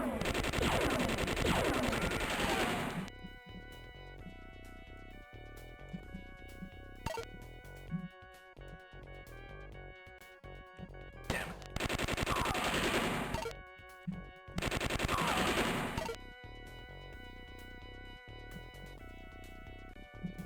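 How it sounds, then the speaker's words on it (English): Blaster gunfire in the first-person shooter Star Wars: Dark Forces comes in loud rapid bursts, three main volleys separated by quieter stretches of game music and effects. "Someone's shooting me."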